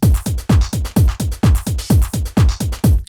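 A busy, steady drum loop with kick thumps on every beat and stacked hi-hats and percussion hits packed around them, loud and repetitive, ending abruptly.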